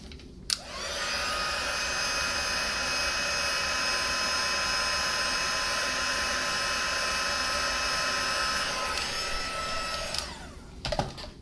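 A crafting heat tool blows hot air over freshly inked stamping on a greeting card, giving one steady, close, droning whir that runs for about ten seconds before cutting off.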